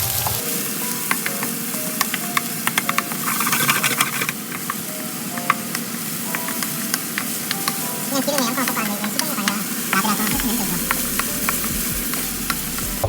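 Thickly sliced onion and garlic stir-frying in oil in a pan, a loud continuous sizzle with scattered crackles and the scrape of stirring, up close with no talk.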